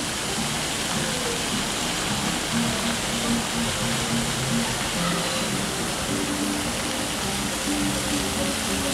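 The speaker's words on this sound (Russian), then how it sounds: "Перед нами фонтан славы." Fountain water pours and splashes in a steady, unbroken hiss at the Fountain of Glory in Dzintari, Jurmala, heard from nearby at moderate level.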